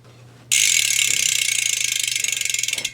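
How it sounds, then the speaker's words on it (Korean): Bicycle rear wheel freehub ratchet pawls clicking dry of grease, starting abruptly as a loud, rapid, metallic buzz of clicks that gradually slows into distinct ticks, close up and alone. "라쳇 폴 소리가 굉장히 쇠소리가 많이 나죠"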